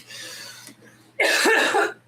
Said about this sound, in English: hold on, I'm going to cough.